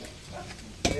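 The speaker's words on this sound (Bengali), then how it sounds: "তেলের মধ্যে এই যে ফোড়ন দিচ্ছি দেখুন এখানে গোটা গরম মশলা আছে শুকনো লঙ্কা গোটা জিরে চিনি ফোড়ন দিলাম" Whole garam masala, dried red chilli and cumin seeds drop into hot oil for tempering, setting off a sudden loud sizzling burst near the end after a quiet low background.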